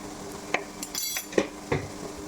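A spoon stirs coriander, pepper and fennel powders into chicken kurma in a pan, a few distinct metallic clinks and scrapes against a faint sizzle, close and brief.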